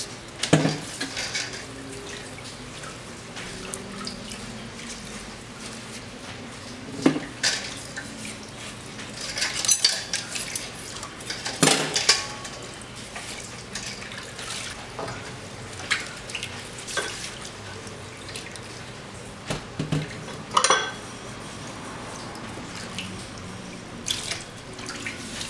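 Cutlery being washed under a running kitchen tap, with water streaming and splashing into the sink and metal utensils clinking and clattering in repeated short bursts, close by, with no talking.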